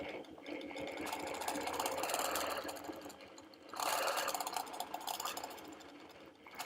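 A longarm quilting machine stitches along a quilt border, its steady mechanical whirr running continuously with a slight dip in the middle before resuming at full level.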